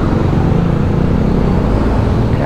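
Heavy road traffic at the foot of a zigzag road in the rain, a loud, steady rumble of engines and tyres close by with no clear breaks.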